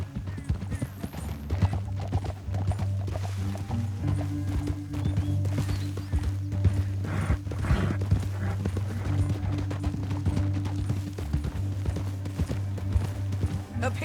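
Horse hooves clip-clopping at a riding pace in Red Dead Redemption 2, a dense continuous rhythm up close over a low steady hum, with an occasional whinny and a few faint voices mixed in.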